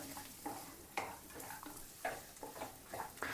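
Grated fresh coconut and a spice tempering being stirred in a hot pan while making poha, with a soft sizzle under a scraping stir that repeats about every half second, close up and with no talk.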